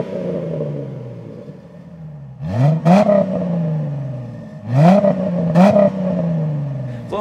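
A 2005-2009 Ford Mustang V6 with an axleback exhaust idles with a low burble, then revs up sharply twice in quick pairs, each rising roar falling back to idle.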